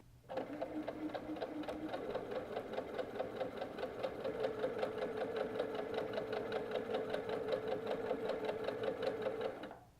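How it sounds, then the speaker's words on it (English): A sewing machine runs steadily for about nine seconds, stitching quilt fabric for a half-square triangle canvas with a fast, even mechanical chatter and hum, close and alone. "So I'm ready and I'm going to start sewing."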